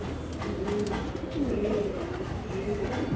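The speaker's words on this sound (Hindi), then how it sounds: "ये देख सकते हैं ज़बरदस्त बाजरा कबूतर" A Bajra pigeon gives several soft, rolling coos, close by, over a steady background hum.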